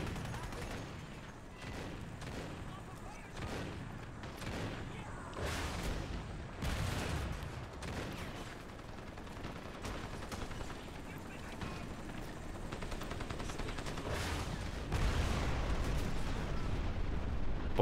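AK rifle fire in the shooter game Crysis, dense bursts of gunshots and blasts rolling continuously, loud and close, with a voice talking over parts of it.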